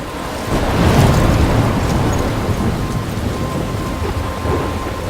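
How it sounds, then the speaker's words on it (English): Heavy rain and rolling thunder roar through a stormy scene in the video game Life Is Strange, a loud, dense wash of downpour with deep rumbling swelling early and holding steady throughout, no voices. "I'm trapped in a storm?"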